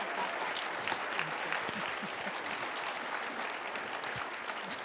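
A large conference audience applauds steadily, a dense wash of clapping at moderate level with a faint voice or two underneath, holding evenly throughout.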